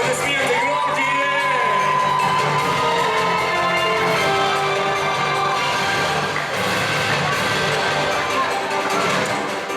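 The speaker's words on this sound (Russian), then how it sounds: "Николай, друзья, аплодисменты громкие!" A contest audience at the Miss and Mister BGU 2019 pageant roars with loud cheering, whoops and shouts over a steady wash of applause that fills the hall throughout.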